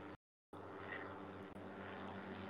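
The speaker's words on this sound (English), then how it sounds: "it's just a regular car in concert with an aeroplane" A propeller aeroplane drones overhead beneath a city flight path while a regular car passes, a steady close engine rumble broken by a brief cut near the start.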